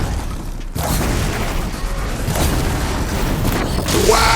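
A fire attack erupts in Horizon Zero Dawn Remastered as a loud, sustained roaring blast that kicks in sharply near the start and rumbles on without a break.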